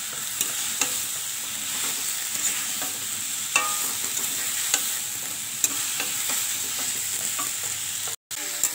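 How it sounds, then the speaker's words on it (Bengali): Spice masala sautés in a hot pan under constant stirring, a steady sizzle punctuated by regular scraping strokes of a spatula, with a brief dropout near the end. "খুব ভালো করে এটাকে কষিয়ে নেব। খুব ভালো করে কষাতে হবে।"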